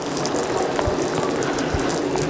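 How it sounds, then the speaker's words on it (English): Water from jets sprays onto the slide-out of a 5th wheel RV to simulate rain, making a steady, close hissing wash with faint irregular patters and clicks throughout. "We're going to get a bit of water on and demonstrate a bit of rain."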